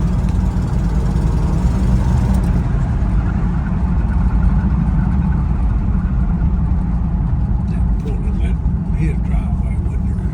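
Car engine running steadily after a carburetor repair, a continuous close idle rumble that lasts throughout.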